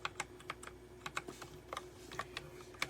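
Rapid typing on a DIERYA T68SE compact 60% 68-key mechanical gaming keyboard with round switches: crisp, close clicks and clacks in an uneven rhythm, heard alone with no talk.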